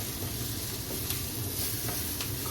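Potatoes fry in a cast iron pan with a dense, steady sizzle and hiss, close up, with a few soft scrapes and stirring clicks breaking through; no talking.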